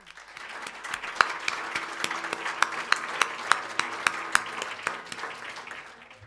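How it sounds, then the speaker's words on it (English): Audience applause for speaker Hanna Birna at a talk on women, business and law: a sustained burst of many hands clapping, with several sharp individual claps standing out, fairly close and steady for about six seconds. "I'm sure that you noticed that you got a very, very good applause here"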